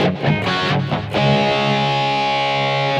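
An electric guitar through a BOSS eBAND JS-10 plays a distorted rhythm tone with plate reverb: a few quick chopped chords, then one held chord ringing out and sustaining loudly to the end.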